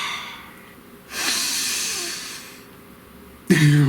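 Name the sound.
deep breathing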